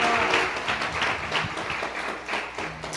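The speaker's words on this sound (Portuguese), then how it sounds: "Será que você pode abençoar, dando uma salva de palmas ao Senhor," A church congregation claps for the Lord during a service, a full, dense round of many hands that holds steady and then tapers slightly.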